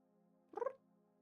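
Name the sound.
pet cat meowing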